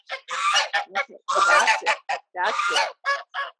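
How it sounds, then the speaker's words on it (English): Backyard chickens clucking in a quick series of close, short, choppy calls with brief pauses between bursts, and a few spoken words mixed in. "And then the chickens are just my chickens."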